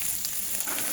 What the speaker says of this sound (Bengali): পেঁয়াজটা একটু নেড়ে চেড়ে নিলাম।